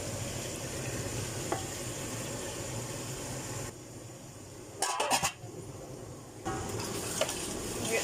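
Onions frying in hot oil for chicken curry as chopped tomatoes go in, a steady sizzle that drops quieter mid-way, broken by a brief clatter of tomatoes and utensil, then the hiss resumes, close with no talk.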